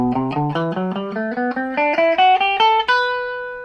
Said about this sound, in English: Then you have the B Phrygian mode